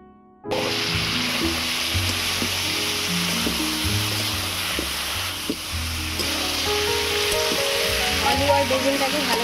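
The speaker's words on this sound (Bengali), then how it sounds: "এবারে দিয়ে দেবো ধুয়ে রাখা আলু আর বেগুন।" Washed potato and eggplant pieces drop into hot oil spiced with ground cumin, coriander and chili, bursting into a sudden loud sizzle that settles into steady close frying, with soft music underneath.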